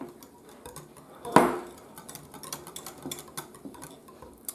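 A whisk rattling and ticking rapidly against a bowl while butter is beaten in, opening with one loud clank, then a busy stream of light metallic taps close by.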